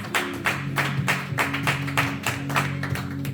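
A congregation claps at a church service, a steady run of sharp hand claps in quick rhythm over a sustained low hum.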